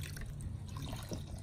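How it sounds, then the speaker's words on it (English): Water trickles and drips faintly onto sand, a quiet, continuous liquid patter over a low background hum, with no voices. "You're filling up the sand with water?"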